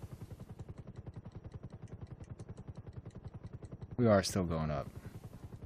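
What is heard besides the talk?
helicopter engine stalling in a video game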